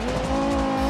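A supersized Scintilla car racing at around 215 mph in the BeamNG driving game, a loud, close, sustained engine whine with a steady high pitch and tire noise, no talk.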